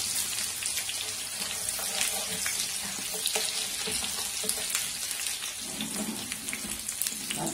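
Running tap water splashing into a kitchen sink while cooking karnıyarık with rice, a steady, close hiss of flowing water with faint clatter, no talking.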